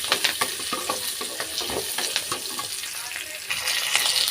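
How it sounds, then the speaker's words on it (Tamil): Coconut pieces, onion and garlic sautéing lightly in a pan, with a steady close sizzle and repeated scraping stir strokes throughout. "ரெண்டு பீஸில் வந்து தேங்காய் எடுத்துருக்குறேன் அதையும் சேர்த்துக்கிறேன் இப்போ லைட்டாக வதக்கிக்கிடலாம்"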